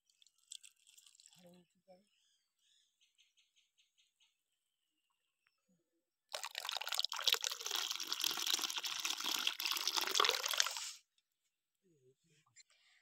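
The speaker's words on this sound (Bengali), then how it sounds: "এবার এই দুধগুলো এর মধ্যে ঢেলে দেবো" Milk from a home cow pours steadily into a container with starter culture to make sour yogurt, a bright splashing rush lasting about five seconds, with faint talk and small handling noises before and after.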